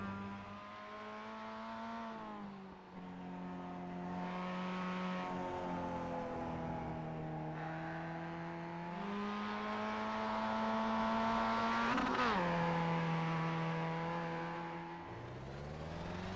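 A Mazda MX-5 race car laps Lime Rock Park in the iRacing simulator, its engine a continuous buzzing drone that rises and falls through gear changes, with a sharp shift blip midway and no voices.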